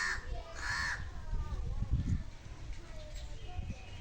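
A crow caws overhead in a village, two or three harsh caws near the start, then faint background noise with low voices nearby.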